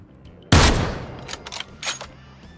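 A loud, close gunshot blast from the Ring of Elysium video game opens sharply and decays, followed by a few quicker, fainter shots in a short burst.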